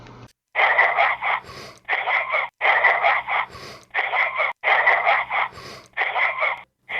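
A frog croaks in a steady run of raspy bursts, each about half a second long, repeating with short pauses between them, loud and close, with no talk.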